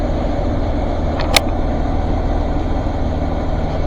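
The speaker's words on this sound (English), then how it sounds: "So the idle would drop down low, and it would basically stall out" A Chevrolet Express 2500 van engine idles close by with a steady low rumble while the idle sags, plus a brief click partway through.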